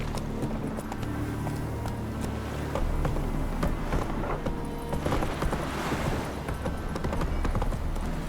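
A horse gallops in The Witcher 3, a rapid, steady clip-clop of hooves running throughout at close range with game ambience underneath and no talking.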